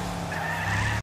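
A car skids out of control in a video game, with a loud, sustained tire squeal over engine roar that runs about a second and then cuts off abruptly.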